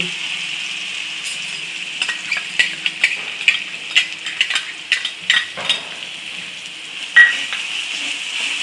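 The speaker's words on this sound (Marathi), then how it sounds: "तेल गरम झालं आता हिरवी मिरची लसूण कोथंबीर जिरायचं त्याच्यात टाकते" Green chilli, garlic, coriander and cumin fry in hot oil for a green chilli and coconut chutney. A steady sizzle runs throughout, broken by repeated clinks and scrapes of a spoon stirring against the pan, with a sharper clack near the end.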